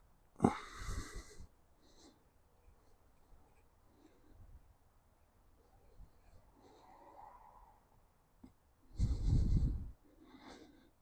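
Heavy nasal breathing during a hot yoga stretch, with two loud forceful exhalations, one near the start and a longer one near the end, and quieter breaths between.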